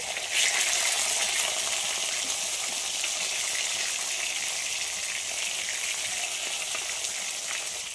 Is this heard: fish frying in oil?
yes